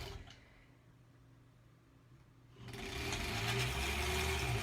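A sewing machine stitches together pieces of a granny square quilt, starting after a quieter stretch of low room hum and then running in a steady, fast, close mechanical whir.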